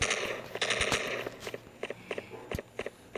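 Gunfire in the multiplayer shooter Stand Off, sharp close shots fired singly and in quick bursts, mixed with faint footsteps.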